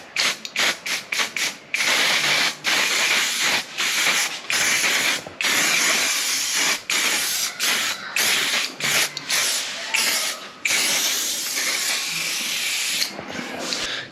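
Bursts of hissing silicone aerosol spray onto a bicycle, short and long, interrupted by brief pauses, loud and close, with mechanical clicks between sprays.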